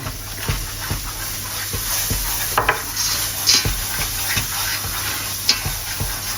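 Apple pie filling with cornstarch and lemon juice being stirred in a pan, a soft steady scraping and sizzling with a few sharp utensil knocks against the pot, continuous and close.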